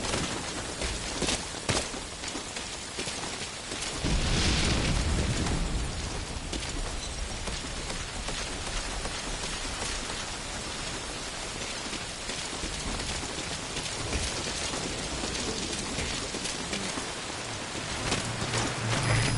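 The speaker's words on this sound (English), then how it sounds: "That rain just won't let up." Steady rain in a Metal Gear Solid video game pours down continuously, a dense hiss of drops on surfaces with a brief heavier surge partway through, no voices.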